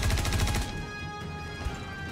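Gunfire in the space game Star Citizen, a quick burst of rapid, rattling shots at the start followed by a lingering electronic hum and scattered impacts.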